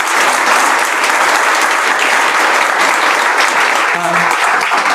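An audience at a religious discourse claps loudly and continuously, a dense steady wall of applause throughout with a faint voice briefly audible beneath it.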